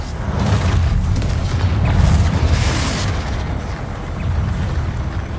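A Confringo fire spell blasts in Hogwarts Legacy, a loud, sustained booming explosion with rumbling roar across the whole stretch and no voices.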